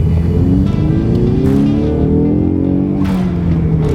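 A Ford Mustang RTR with a four-cylinder engine and aftermarket upgrades revs up repeatedly, loud and close, its engine tone rising and falling in several sweeps.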